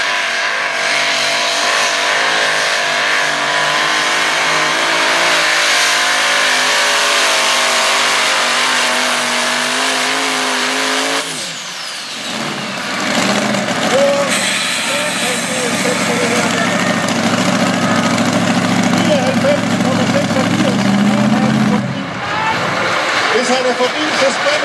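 Heavy tractor pulling engines: a loud, sustained roar of powerful engines revving at high pitch, dropping sharply partway through, then surging again in rising and falling bursts, with a person talking over it.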